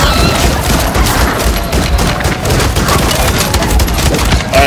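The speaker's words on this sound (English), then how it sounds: "that machine gun turret" A machine gun turret in Call of Duty fires in dense, relentless bursts, loud and close, with rapid overlapping shots and booms blurring into a continuous roar.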